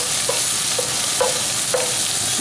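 Plum tomato hitting a hot pan of braised kale over high heat with olive oil, a steady broadband sizzle under a few short stirring clinks and scrapes, close and fairly loud, no talking.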